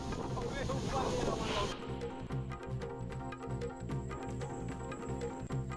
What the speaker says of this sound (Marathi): जोरदार पावसामुळे बीडचं बिंदुसरा धरण ओसंडून वाहू लागलं